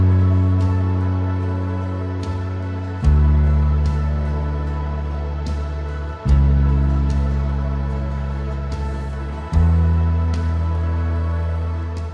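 Bass guitar holds long sustained notes, a new low note struck roughly every three seconds and ringing out over a quiet backing with light percussion, loud and close.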